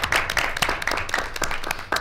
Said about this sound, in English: So I would just love to give them a round of applause.